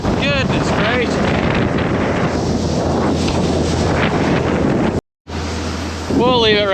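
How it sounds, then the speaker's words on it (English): Strong gusty wind roars and buffets around a Case IH tractor in a Kansas wheat field, loud and continuous with a brief dropout, and faint voice-like whistles drift through the rushing air. "wind's still blowing"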